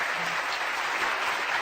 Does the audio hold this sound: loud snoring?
no